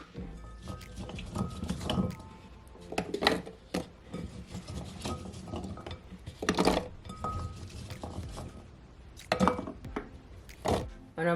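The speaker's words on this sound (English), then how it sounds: "So now I'm gonna add my carrot and my ginger to my blender." Chopped carrots and ginger are dropped into a blender, giving scattered clinks, thuds and rubbing knocks of hard pieces against the jar in irregular bursts, fairly close, with no talk.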